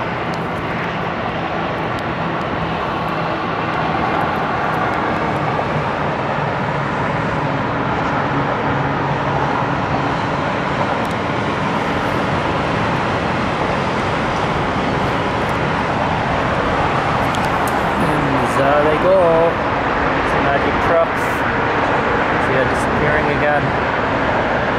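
Trucks drive over the SF Bay Bridge in a continuous, loud roadway roar of engines and tires that builds slightly over time, with brief voices heard near the end.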